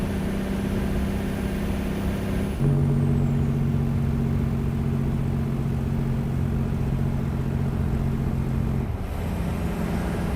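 Peterbilt 389 truck engine in American Truck Simulator, hauling a lowboy trailer: a steady, loud diesel drone with a low tonal hum that shifts pitch slightly around a gear change, continuous throughout with no talking.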